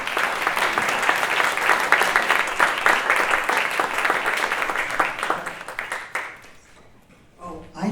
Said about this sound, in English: give an applause for all that has been accomplished through these committees here